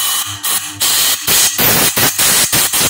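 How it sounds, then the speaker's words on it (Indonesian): Compressed air is sprayed into a Honda CB150R motorcycle exhaust port during a valve leak test, heard as loud hissing bursts in an uneven series of short blasts with brief gaps. "Nah kita semprot lubang knalpotnya Pak"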